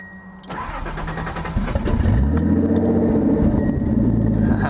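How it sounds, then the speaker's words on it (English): A turbocharged Datsun 280ZX with an open downpipe cranks and fires, then settles into a loud, rough idle that builds as the car begins to pull away. "We'll see if I piss off any neighbors with this open downpipe."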